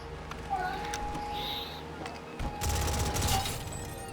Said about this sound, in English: I used only a tactical SMG